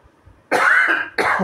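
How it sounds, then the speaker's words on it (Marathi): Two close, harsh coughs, the first longer and the second starting just after a short pause. "कमी झालाय खोकला पण गेलेला नाही."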